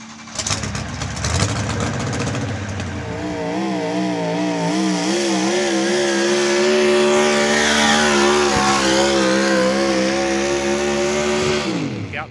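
Naturally aspirated drag racing engine at a Festidrag event revs hard and loud, its pitch wavering up and down in rising sweeps, continuous and close for the whole stretch with no talk.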